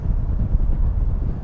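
Strong wind buffets a drone's microphone above Blackhorse Road, London, a loud, continuous low rumble with irregular gusty surges.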